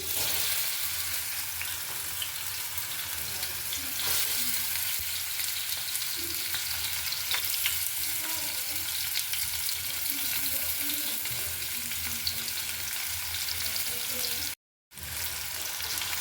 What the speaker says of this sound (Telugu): ఇప్పుడు దాంట్లోకి తరుక్కున్న ఉల్లిపాయలు వేసుకుందాం.